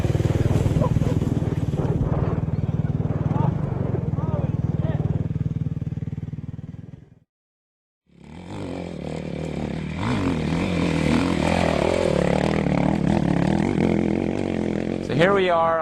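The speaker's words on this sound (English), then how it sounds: "jumping on your bike and trying to ride it back down" An off-road motorcycle ridden down a loose hill, its engine droning and revving loudly with scrapes and clatter, a brief near-silent break midway, then resuming close and busy with a sharp rise at the end.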